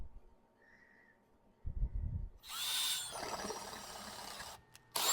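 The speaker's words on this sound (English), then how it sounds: "this is the side that I'm going to drill on" A power drill bores into old furniture, several loud whirring bursts starting and stopping close by, with a quieter handling sound before the first burst.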